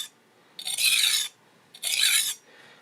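A kitchen knife drawn across a coarse 300 grit diamond whetstone from a Trend sharpening kit, giving two close, harsh rasping strokes separated by a short quiet pause.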